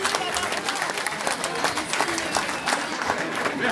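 An audience applauds at a carnival poster unveiling in a festival hall, with dense, steady clapping throughout and voices mixed in.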